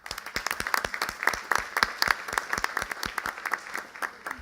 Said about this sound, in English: So we want to give you a round of applause as well.